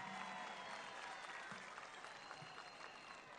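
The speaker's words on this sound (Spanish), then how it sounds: "Un aplauso a Diosdado Cabello Rondón y a toda la Dirección Nacional." Faint, steady applause from an audience at a political gathering, honouring Diosdado Cabello Rondón and the national leadership, a dense wash of clapping that holds evenly through the whole stretch without voices.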